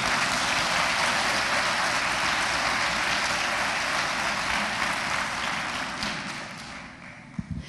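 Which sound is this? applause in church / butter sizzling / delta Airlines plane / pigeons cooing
applause in church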